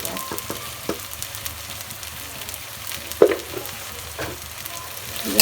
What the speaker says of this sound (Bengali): আমি এটাকে ভালোভাবে কষাই নেব